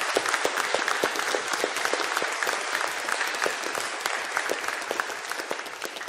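A church congregation gives sustained, even applause for graduates, a dense wash of many hands clapping close by and fairly loud, tapering slightly toward the end with no one talking over it.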